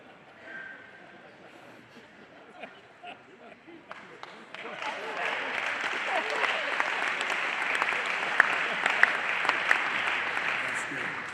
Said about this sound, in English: Applause for the jokes, that's great.